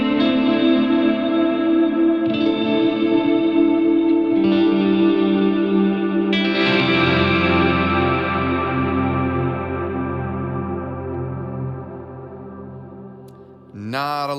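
An electric guitar played on the neck pickup through a Line 6 Helix with three delays, two reverbs and tremolo, giving a few sustained, washy chords that swell and trail off into long echoing decay before a sharp new strum at the end.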